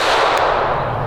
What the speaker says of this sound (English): So I'm just gonna shoot at, I'm not shooting at a target, just a berm, so you guys can hear the difference.